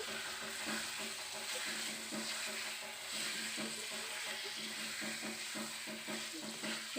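Pointed gourd sautés in a pan for a yogurt-based vegetarian curry, a soft continuous sizzle with rhythmic spatula scraping and stirring throughout, close and fairly quiet.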